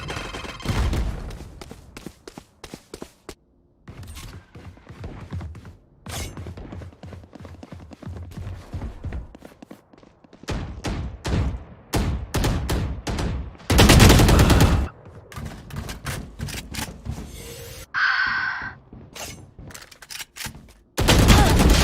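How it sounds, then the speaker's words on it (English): Rapid bursts of Valorant gunfire crack repeatedly on a bomb site during a tournament match, mixing quick single shots with longer automatic volleys and a few heavier blasts, loud and close. "Gunshots already taking place on bomb site here."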